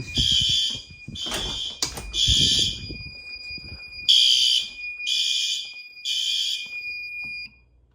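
A Notifier fire alarm sounds in repeated piercing electronic bursts, about one per second, with brief gaps and some handling noise beneath.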